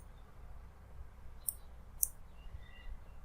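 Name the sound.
computer mouse click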